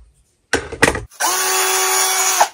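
A Hychika 18V cordless drill driver bores a 9 mm hole through 3.5 mm thick metal. A short choppy burst comes first, then after a brief pause a loud, steady motor whine runs close by for over a second.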